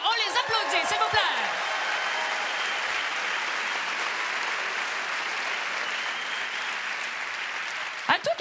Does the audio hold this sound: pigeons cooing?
no